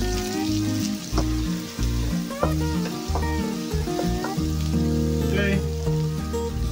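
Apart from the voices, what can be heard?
onions sizzling while frying in pan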